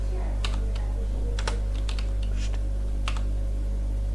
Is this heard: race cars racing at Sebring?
no